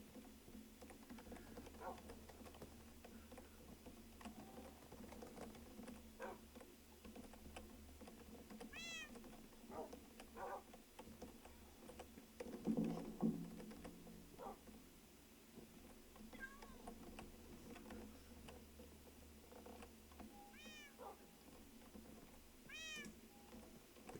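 Cats in Minecraft give short, faint meows scattered across a quiet scene, a few rising calls spaced apart over low background noise and occasional clicks.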